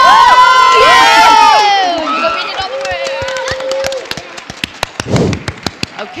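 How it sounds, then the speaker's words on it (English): An audience at a Chanukah play and Erev Shabbat service erupts in loud cheering and shouting voices, which fade into a patter of scattered, sharp handclaps toward the end. "And another round of applause for Cantor Vlad, who pulls it off every time"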